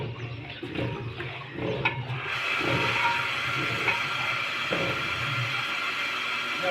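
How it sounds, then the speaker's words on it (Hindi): Water pours steadily into a large cooking pot holding 12 kilos of rice set to soak, a continuous rushing splash with no talk over it, at moderate loudness throughout. "हम इसमें पानी डालने के लिए डालेंगे 12 किलो चावल के लिए 15 किलो पानी दरकार होगा।"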